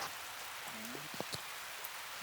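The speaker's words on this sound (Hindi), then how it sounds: "अब बारिश का मौसम है, बारिश हो रही है" Faint, steady hiss of monsoon rain falling outdoors at Bhandardara in Maharashtra, continuous and soft, with a couple of brief tonal chirps over it.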